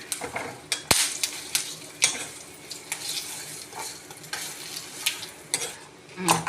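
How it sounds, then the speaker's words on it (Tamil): Dried red chillies roasting in a pan over low heat, with a gentle constant sizzle under frequent spoon scrapes and metallic clinks against the pan, close and steady throughout. "இப்போ மிளகாய் வறுக்கிறோம். சிம்மில் தான் வச்சுருக்கேன்."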